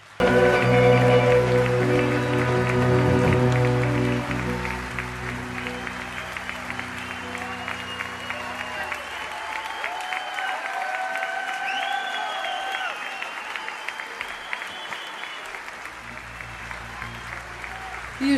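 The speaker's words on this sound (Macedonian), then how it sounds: "И уште еднаш аплауз за овие прекрасни принцези" Sustained audience applause with scattered cheers at a Macedonian folk brass concert, bursting in over the fading final chords of the band and continuing evenly, fairly loud, for a long stretch.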